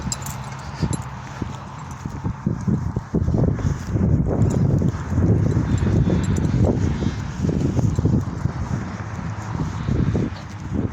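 A herd of livestock walks out to pasture, with irregular hoof steps clopping close by over a steady outdoor rumble and some wind noise.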